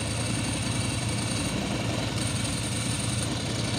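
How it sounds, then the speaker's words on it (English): A Bimota DB2 motorcycle idling with its dry clutch rattling, a steady close engine rumble with a continuous mechanical clatter running through the whole stretch, no voices. "So first of all, you can hear that dry clutch,"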